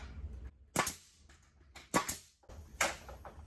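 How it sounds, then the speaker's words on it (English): A clipped-head framing nailer drives nails into wood while framing a floating basement wall, giving three sharp, close pneumatic snaps spaced about a second apart. "Fire a couple nails"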